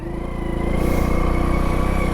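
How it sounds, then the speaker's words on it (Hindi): A motorcycle ridden at steady speed with the clutch pulled in before braking hard; a close, continuous engine drone with a slight rise in level partway through, no talk. "अब मैं क्लच दबा के सेम स्पीड में सेम गाड़ी के सामने से ब्रेक मारता हूँ"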